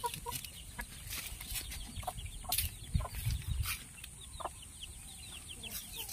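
Native chickens on a free-range farm cluck in scattered bursts, fairly faint and spread across the yard, with occasional sharper calls among a low background murmur.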